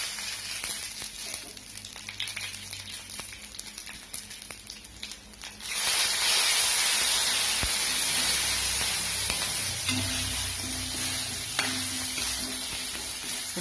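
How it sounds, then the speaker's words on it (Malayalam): Curry leaves dropped into hot oil with spluttering mustard seeds, fenugreek and green chillies for a Palakkad-style sambar tempering; quieter crackling bursts into a loud, sustained sizzling hiss that holds steady to the end. "കരിവേപ്പിൻ്റെ ഇല ഇട്ട് കൊടുക്കാം"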